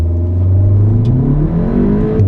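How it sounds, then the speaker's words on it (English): Volkswagen Golf R with 300bhp floored from a standstill, its engine note climbing steadily as it accelerates hard at full throttle, loud and close throughout with no voices. "I'm going to put my foot on the brake and then accelerate, I guess, and just floor it"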